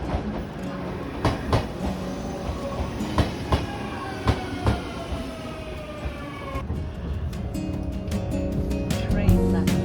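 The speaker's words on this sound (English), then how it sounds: "Soon it was time to catch the train back to Nagano." A train on the line back to Nagano rolls along with rhythmic clickety-clack wheel beats and a low rumbling drone, while a rising tonal whine builds mid-way before the cabin noise settles into a steadier hum.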